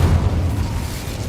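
Incendio fire spell cast in Hogwarts Legacy, a short loud low whooshing boom that fades quickly, with no talking.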